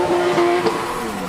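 BMW E36 Compact drift car with an E36 M3 engine and nitrous at a British Drift Championship pro-am qualifying round, a steady engine drone under load with a faint squeal of tyres, fairly near and continuous.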